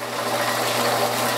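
An engine on a rural farm keeps running with a steady, close mechanical drone and a rapid ticking, knocking texture, constant in level and with no talking.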